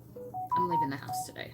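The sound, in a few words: mobile phone notification sound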